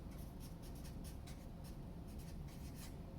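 Pen scratching out a word on paper in a quiet room, soft rhythmic strokes and short scribbles, faint and close with no talk.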